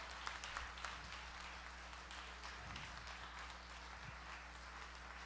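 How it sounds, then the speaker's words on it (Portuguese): Church congregation applauds, a quiet and distant wash of clapping sustained evenly over several seconds beneath a low steady hum. "Pode aplaudir ao Senhor, queridos"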